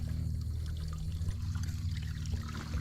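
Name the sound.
water filling a sinking fish habitat structure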